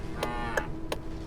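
Cows mooing in the Bus Driving Sim 22 video game: four short, bright, clear moos at close range, spaced at roughly even intervals over a low steady background hum.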